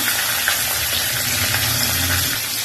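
Bangda (mackerel) fish frying in a pan over curry leaves, a steady close sizzle and crackle of hot oil running throughout with no voices.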